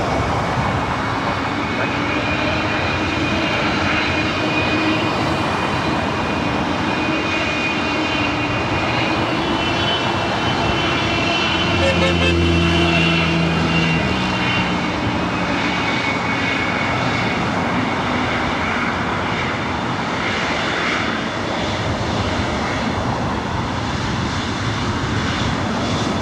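A Singapore Airlines heavy jet takes off from runway 24 right at LAX, a loud steady engine roar that fills the whole stretch and swells slightly near the middle.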